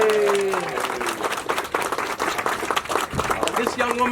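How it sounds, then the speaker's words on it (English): Audience applause for a guest at a morning street-renaming event, a few seconds of uneven clapping and cheering with voices mixed in. "Round of applause for Cat, please."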